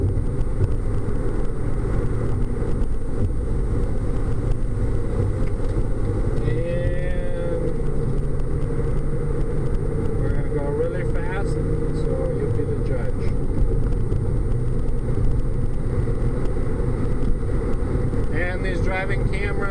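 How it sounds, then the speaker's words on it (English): A car cruises down a highway at 70 mph, a steady low road and wind rumble filling the cabin throughout, with a person speaking over the drone. "So right now I'm going 70 miles an hour"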